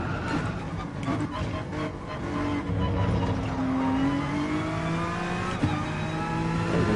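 A car engine revs in a PS4 racing game, climbing steadily in pitch through the gears with a brief shift near the end, loud and continuous, with no talk over it.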